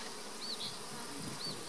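Honey bees hum in a steady, faint drone inside a hive being gently smoked, with a few brief higher buzzes passing close by.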